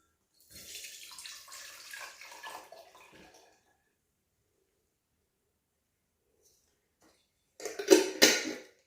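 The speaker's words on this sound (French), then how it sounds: "Je vais maintenant égoutter mes cerises, mais je vais garder le sirop." Cherries tipped into a strainer release a pouring splash of syrup and liquid for about three seconds. Quiet follows, then a brief louder clatter near the end.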